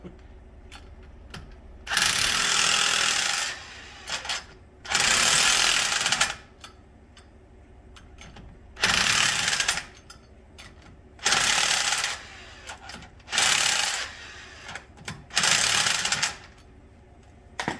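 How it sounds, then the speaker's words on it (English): A 240 foot-pound impact wrench works on Mustang GT wheel spacer lug nuts in a garage, sounding in six loud, roughly two-second bursts of hammering rattle separated by quieter gaps, with no talk. "That's a 240 foot-pound impact wrench"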